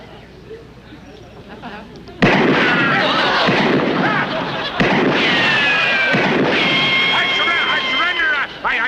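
Gunshots ring out in a duel, two loud, sharp reports a few seconds apart, each trailing into a noisy wash of shouting and commotion as people talk over the scene.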